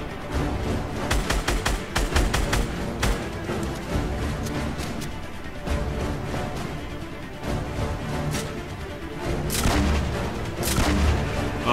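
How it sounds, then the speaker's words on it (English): Gunfire in a Fortnite Battle Royale match, with shots landing close: dense, loud bursts of rapid cracks and booms crowd the first half, then further clusters of heavy shots come in waves, with no talking over them. "These shots are coming really close"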